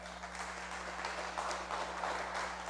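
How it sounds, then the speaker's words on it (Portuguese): A church congregation applauds during a sermon on the Lord's Supper, faint and distant clapping over a steady low hum. "dê um aplauso ao Senhor Jesus Cristo"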